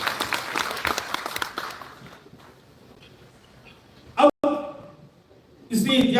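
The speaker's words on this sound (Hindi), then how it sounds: "तो फिर तालियां हो जाए भाई" Applause from an audience at a live arbitrage exchange event in Malaysia: dense clapping at the start that thins and fades, with short bursts of sound later.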